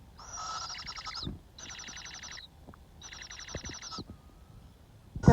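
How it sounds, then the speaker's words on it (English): Three bursts of a shrill, raspy, fluttering call from a young barred owl, each about a second long with short pauses between, fairly close, followed by a few soft knocks. "I believe it's a little barred owl."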